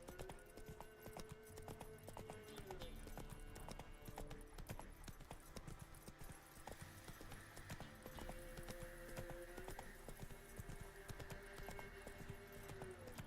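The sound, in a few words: horse Roach trotting, from a video game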